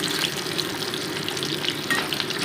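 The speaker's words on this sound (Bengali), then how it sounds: "এবার ওই তেলের ওপরেই নুন হলুদ মাখানো সোয়াবিনগুলোকে একটু হালকা ভেজে আমি তুলে রাখছি" Soybean chunks coated with salt and turmeric fry in hot mustard oil in a pan, giving a close, constant crackling sizzle with scattered pops and no talking.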